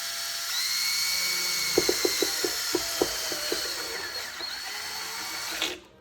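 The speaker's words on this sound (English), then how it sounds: "there we have the next part of the panel drilled out for the jack" A power drill whines steadily while boring a jack hole in the panel of a 50 watt amplifier head, with a quick series of sharp clicks and knocks in the middle before the motor winds down near the end.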